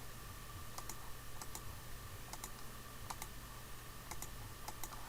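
Computer mouse clicking in Revit design software, sharp faint clicks in small pairs and clusters over steady background hum.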